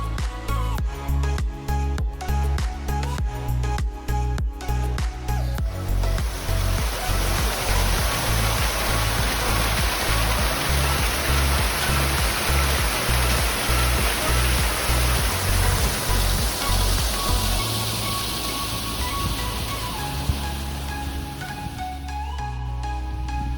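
Steady rain falling outdoors on the Montgomery Canal aqueduct over a river, a dense continuous hiss that holds at the same loudness throughout with no one talking.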